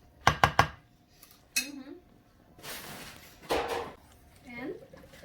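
Vegetable muffin batter is mixed in a kitchen bowl: a burst of quick clinks from a spoon against the bowl, then dish knocks and scraping between short stretches of speech.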